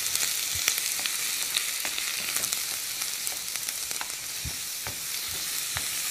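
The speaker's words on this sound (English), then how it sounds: "Nice sizzle." Meat sizzles steadily in a hot skillet, a constant close crackle with occasional sharper pops.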